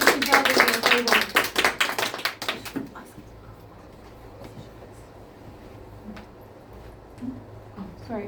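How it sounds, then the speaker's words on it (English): Audience clapping during a game session, a dense burst of applause over the first three seconds that quickly thins to scattered claps, then a quiet room with low murmuring. "Please give everyone an applause and keep going on the table."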